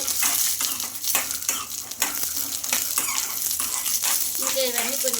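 Chopped green chilies, an inch of ginger and two garlic cloves sizzle and crackle steadily in hot oil, with stirring scrapes throughout, loud and close with no pauses.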